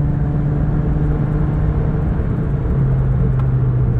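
A Honda Jazz RS with a double Blackcore exhaust drones at a steady cruising pitch, a close low rumble with a faint tonal hum that shifts slightly partway through, with no voices.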